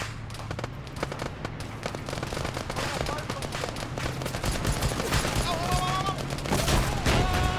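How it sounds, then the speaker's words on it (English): Heavy gunfire in sustained bursts and overlapping volleys, loud and continuous throughout, with faint voices underneath. "Stop firing, stop firing, stop firing."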